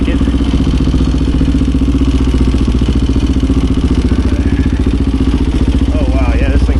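Freshly built Honda HRC XR628R motorcycle engine running loud and close, a steady rapid thumping idle throughout with a slight rise at the end.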